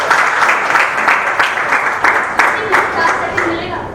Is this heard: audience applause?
yes